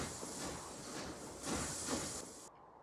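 Passenger express train in the Transport Fever 2 game rolling along, a steady broadband hiss and rumble with two slightly louder swells before cutting off near the end.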